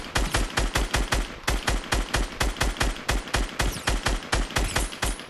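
Rapid game gunfire in Fortnite, loud close bursts of evenly spaced shots fired in quick rhythmic volleys with brief pauses between groups, nothing else heard.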